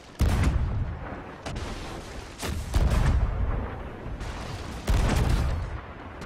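In a video game, a cannon fires repeated heavy booming blasts, each followed by a rumbling roar. The shots are loud and close, with a few seconds between them and no talk.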